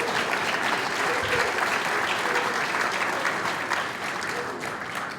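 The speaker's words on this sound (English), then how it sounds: "Let's give another round of applause to the Roses." Sustained applause from an alumni awards ceremony audience honoring the Roses, dense and steady clapping filling the room for several seconds without pause.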